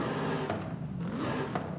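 A racing 7.2-litre V8 swapped into a car in Forza Horizon 5 revs up, its pitch climbing briefly in a fairly quiet, short burst with no talking.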